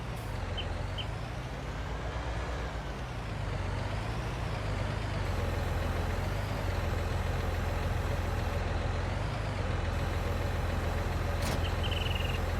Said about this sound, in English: Since we have this tractor, I might as well just use it